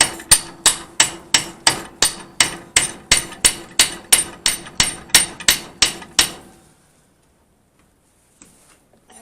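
About fifteen evenly spaced hammer blows ring out on a metal battery bracket clamped in a vise, each strike sharp and close with a short decay, followed by near silence.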